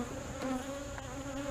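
Honey bees buzz around an open beehive during an inspection, a steady close hum with several overlapping tones and no voices.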